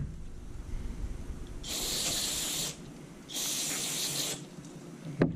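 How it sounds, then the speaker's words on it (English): Two bursts of aerosol spray on a snowblower under repair, each about a second long, hissing loudly over a quiet background with a short gap between them. "Spray a little more there."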